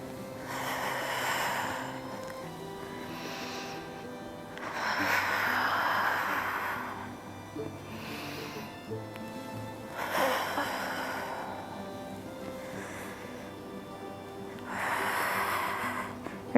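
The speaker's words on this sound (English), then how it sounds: "Breathe out as you go into the move." Slow, audible breaths out and in during a back pain exercise, long airy exhales recurring roughly every five seconds, close and soft, with no talking.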